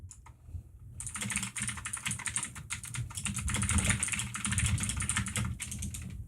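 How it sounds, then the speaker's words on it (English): Steady, brisk typing on a computer keyboard during an amateur radio session, the keystrokes clattering continuously and close by with no talk over them. "Greg, are you typing up a storm?"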